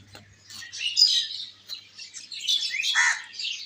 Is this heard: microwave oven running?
no